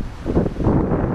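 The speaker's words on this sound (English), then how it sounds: "It's very windy." Strong outdoor wind gusts buffet the microphone, producing loud, uneven low rumbling that swells and eases over about a second.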